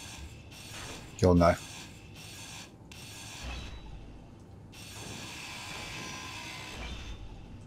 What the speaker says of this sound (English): So I'm just going to grind off the two blocks.